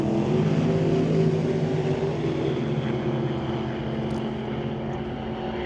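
A yellow Chevy II and a 1963 Corvette launch down a quarter-mile drag strip, their engines making a loud, sustained droning roar that eases slightly as they pull away.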